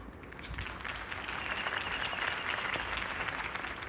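Crowd applause after Harvey Dent's campaign speech in a Batman video game, a dense, sustained wash of many hands clapping, steady and moderately loud for the whole stretch.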